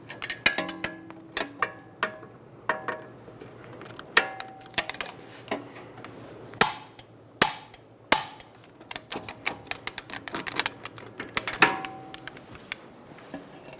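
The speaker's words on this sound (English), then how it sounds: "Torque the bottom strut bolts to 155 foot-pounds." Bottom strut bolts being torqued with a torque wrench on a 2007-2011 Toyota Camry front strut assembly give irregular sharp metallic clicks and ratchet ticks, close and isolated with quiet gaps.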